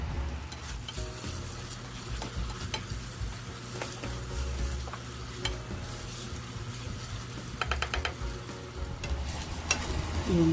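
Seasoned ground meat, cooked sisig-style, sizzles and fries steadily in a pan while a utensil stirs and scrapes it in repeated close strokes, with no talking.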